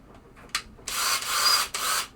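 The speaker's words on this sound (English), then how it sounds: "I have this little cool drill attachment" A small power drill fitted with a polishing attachment whirs in two close bursts after a short tap. It is used on a 1962 Williams Vagabond pinball playfield.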